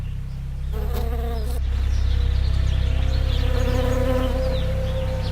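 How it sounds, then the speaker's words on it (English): Bees buzzing in a California almond orchard, a dense steady hum of many insects close by, with a sharper buzz passing near the mic early on. "Every spring, billions of bees are brought here to help pollinate the almond trees."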